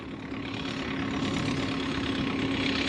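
A tractor engine runs steadily nearby, a continuous low, even idling hum with a faint tonal whine and no breaks.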